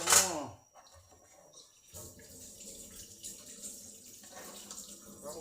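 Running tap water splashes into a sink as dishes are washed at home, a steady close hiss of flowing water beginning after a brief clatter, with a voice speaking softly in the background.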